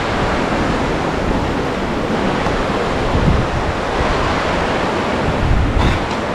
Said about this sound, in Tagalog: Medyo mahangin na siya guys.